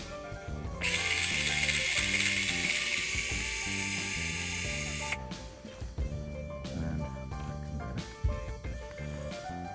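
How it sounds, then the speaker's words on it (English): A hex driver turning a screw out of a TRX-4M servo, a rapid ratcheting buzz of small mechanism clicks, a long burst followed by several shorter spurts with pauses, close and quiet. "take out, with the same hex drive, this screw here"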